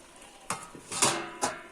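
A metal lid set onto a cooking pot of boiling ghota shaak greens in a village kitchen, a few sharp clinks and clatters close by, alone without talk.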